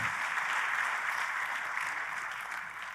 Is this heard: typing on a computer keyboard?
no